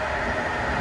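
Steady, loud broadband rumble and rushing hiss inside a moving passenger train, heard on a trip back from Poděbrady, continuous and even with no voices over it.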